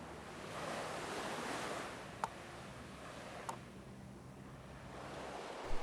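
Waves wash steadily onto a narrow black sand beach at a seaside resort in Bali, a continuous roar of surf with light wind noise and a couple of faint ticks, no voices.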